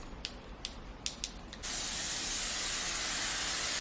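L'Oreal makeup setting spray hisses out in one long, steady, close burst of fine mist lasting about two seconds, after a few soft clicks and taps of handling the bottle.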